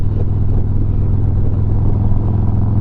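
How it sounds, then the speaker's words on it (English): Harley motorcycle fitted with a TAB Performance Redline exhaust, idling close and loud with a deep, throbbing low rumble that swells slightly as the throttle is blipped, with no voices over it. "the pickup from just the little tiny blip of the throttle is ridiculous"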